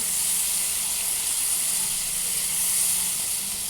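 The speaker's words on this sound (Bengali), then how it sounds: "আমি মশলাটাকে আস্তে আস্তে কষাতে থাকবো।" A spice masala sizzles steadily in a pan while being sautéed for a fish curry, a continuous close hiss with no voices.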